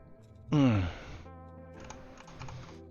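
Computer keyboard typing at close range, a short run of light clicking keystrokes following a loud vocal sigh, under a steady low hum.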